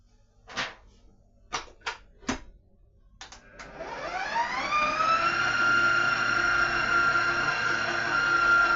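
An electric mixer starts up after a few knocks and ramps into a loud, steady high whir as it beats cake batter with whisked eggs, close and continuous without talk.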